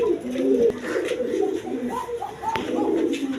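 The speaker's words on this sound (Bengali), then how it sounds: "দেখেন এই কবুতর কে দেবো 1000 টাকা, চিন্তা করেন" King pigeons coo in a busy breeding loft, several birds overlapping in low rolling calls with a few sharper bursts, steady and close under a faint background murmur.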